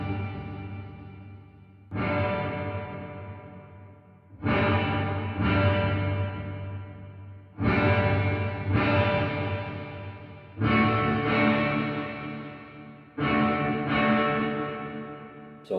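Electric guitar chords through a Headrush Bright Hall reverb, struck about every two seconds, each ringing out into a long reverberant wash that fades before the next strum; no voices.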